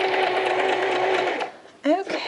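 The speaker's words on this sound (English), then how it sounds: "presser foot down, and let me just finish the rest" Domestic sewing machine stitching a skirt seam, running as a steady continuous whir for most of the moment, then stopping briefly before a short burst of stitching resumes; close and clear.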